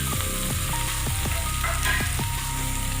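Peas fry in hot spiced oil for matar paneer: a steady, close sizzle runs throughout, with rhythmic scraping and knocking as the pan is stirred.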